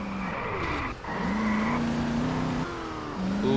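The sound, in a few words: car handbrake skid in video game Just Cause 2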